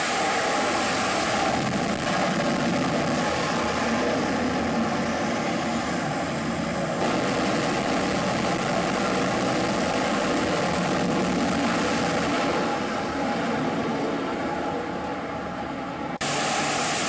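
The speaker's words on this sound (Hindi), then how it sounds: "किस तरह से अमेरिका के जो लड़ाकू विमान हैं ये उड़ान भर रहे हैं।" US and British fighter jets take off for strikes on Houthi targets in Yemen, a loud, steady engine roar filling the whole stretch with no voices.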